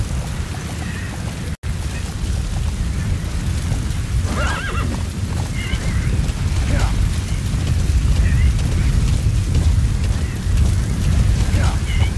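A horse neighs and gallops with steady hoof clatter in Metal Gear Solid V: The Phantom Pain, under a continuous low rumble, with a couple of short whinnies partway through.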